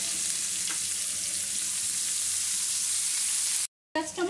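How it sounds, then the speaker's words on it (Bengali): Chopped onion frying in a pan gives off a steady, close sizzle and crackle with a faint stir, then a brief gap and a short clatter at the end. "পেঁয়াজ কুচিটা দিয়ে একটু ভেজে নেব।"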